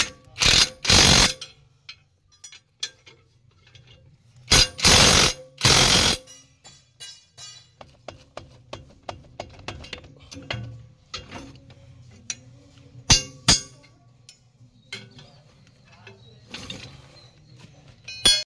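An Ingco impact wrench used for changing a blade fires in loud, short hammering bursts, two main pairs early on, separated by quieter clanks, rattles and handling knocks.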